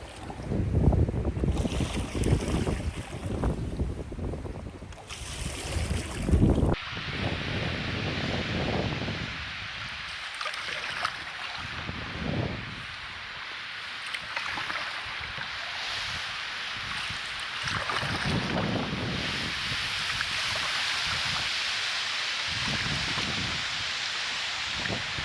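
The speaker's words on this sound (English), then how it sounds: "It's just the wind, even in this very tight, choked up creek, it's blowing me around." Strong gusting wind buffets a canoe in a narrow, choked creek on a cold spring day, roaring steadily with heavy microphone rumble and a broad hiss that rises and falls in waves.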